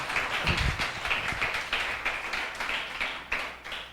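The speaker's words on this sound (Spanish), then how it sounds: "Dele ese fuerte aplauso al Señor." A church congregation claps together in a quick, steady rhythm, a moderately distant patter of many hands that holds for a few seconds without voices.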